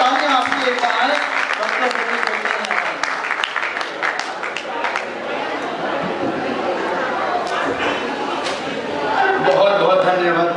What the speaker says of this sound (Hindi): जोरदार तालियां आपकी एक बार आए